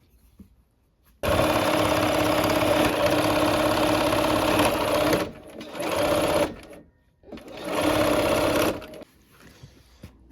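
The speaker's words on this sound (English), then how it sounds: "I'm probably going to sew this from the square side" A sewing machine stitches quilt blocks together in runs. A long steady burst is followed by two shorter ones, with its close whirring hum cutting in and out between pauses.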